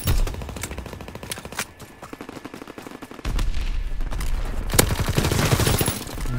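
Gunfire in a Call of Duty WWII match, with rapid bursts of automatic fire and sharp single shots cracking loudly through the whole stretch, getting denser and heavier toward the end.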